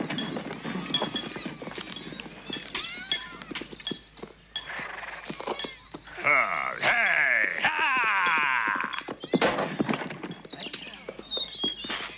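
Horse hooves clip-clop steadily over ground in an adventure film scene, with a horse snorting and a burst of louder movement midway, accompanied by background voices.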